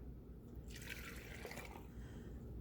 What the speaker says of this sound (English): And then we're gonna add the water.